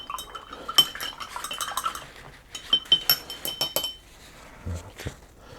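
Paintbrushes rattle and clink against the sides of a metallics paint pot as they are rinsed, in quick irregular bursts of light taps with short pauses between them.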